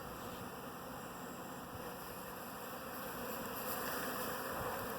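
A honey bee swarm in Emmett, Idaho, humming as a steady, even drone of many wings, soft and continuous for the whole stretch, with no talking.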